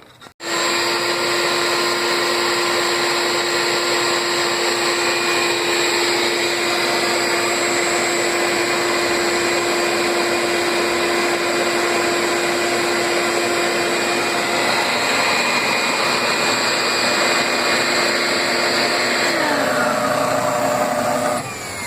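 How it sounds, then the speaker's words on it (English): A spindle sander mounted on a drill press whines steadily while sanding wooden coping, with a constant motor hum and grinding, briefly dropping in pitch near the end as it winds down. "we're cleaning up the coping a little bit here with the spindle sander on the drill press"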